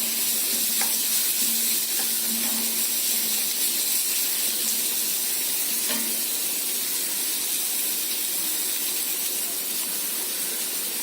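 Pakora batter fries in a pan of hot oil with a steady, close sizzle and a few faint pops throughout.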